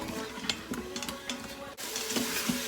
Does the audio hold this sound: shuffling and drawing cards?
no